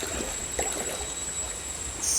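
Forest river flowing steadily, a soft continuous trickle and burble heard close and alone, with no voices.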